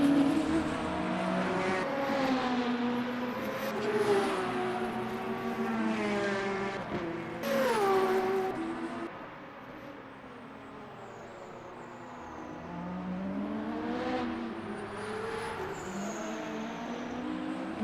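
Race cars lapping the Imola circuit in a racing video game, a steady loud engine roar with repeated rising and falling pitch sweeps as gears change, sustained throughout without talk.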